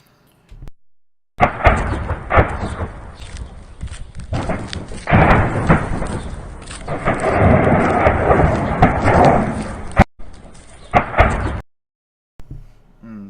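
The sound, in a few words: explosions at Russian base in Crimea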